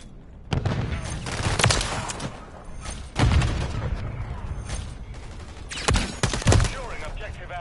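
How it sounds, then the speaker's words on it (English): A video game firefight has a grenade explosion and gunfire in loud, close bursts at three points, each with heavy low thumps and crackling shots, separated by quieter stretches. "Grenade out."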